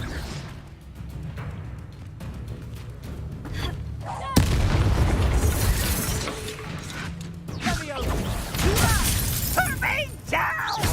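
Confringo fire spell in the Hogwarts Legacy game bursts with a sudden loud crash and crackling blast, then a rumbling roar and debris clatter. Game voices shout over the din.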